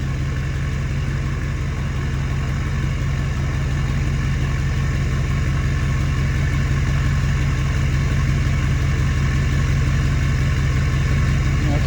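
A Ford F-series 6.4 Powerstroke diesel idles steadily near the microphone, a loud, continuous low rumble with an even clatter and no change in pitch, with no one talking.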